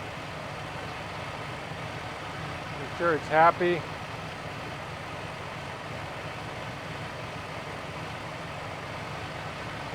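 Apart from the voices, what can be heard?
newly installed car engine idling while warming up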